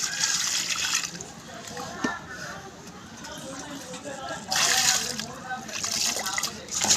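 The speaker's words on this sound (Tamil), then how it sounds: "இந்த தண்ணி ஊற்றிட வேண்டியதான்." Water poured over a salted freshwater fish during cleaning, soft trickling and splashing in irregular bursts close by, with a voice talking over it.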